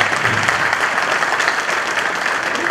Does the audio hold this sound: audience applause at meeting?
yes